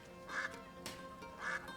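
A duck in the video game A Plague Tale: Innocence quacks twice in a slow, evenly spaced pair, nasal and fairly clear over a quiet background.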